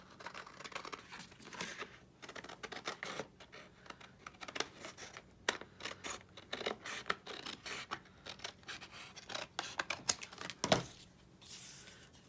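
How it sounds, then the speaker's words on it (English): Scissors snip away excess index card paper in a run of close, crisp cuts and rustles, with short pauses and a louder crunch near the end. "we'll cut the excess off of this"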